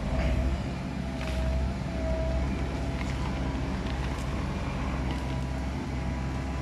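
A Komatsu PC130-10 excavator fitted with a log grab works at felling rubber trees while clearing a 30-rai plot, its engine a steady, loud, close rumble with faint rattles and no talk.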